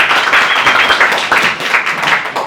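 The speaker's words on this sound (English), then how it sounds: "give a good round of applause to Seth Kean" Audience applause welcoming a guest speaker to a stage for an interview, dense continuous clapping that swells and dips slightly, loud and fairly close, with no voices over it.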